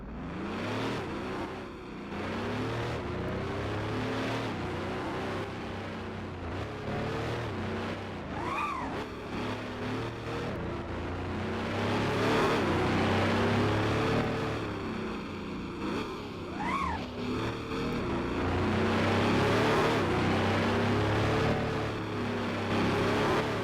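Ferrari LaFerrari engine in the racing game Driving Empire, a loud continuous roar that surges and drops through repeated revs and gear changes, with sharp rising whines around the shifts and no talking.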